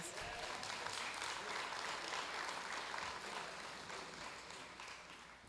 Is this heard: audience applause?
yes